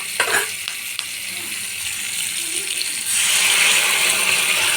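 Chili chicken sauce poured into a hot frying pan of fried chicken sets off a loud, steady sizzle that swells after a few seconds into a fuller, hissing fry, close by with no talk.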